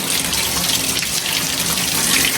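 Cold mountain spring water runs steadily from a fountain on a trek at Monte Stagno, Camugnano, Italy, a continuous close hiss and splash with no talk.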